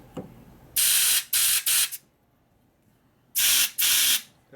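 Compressed air blasts through a part from a 1988 FXR motorcycle engine during lifter and cam work, in short loud bursts: three close together, a pause, then two more.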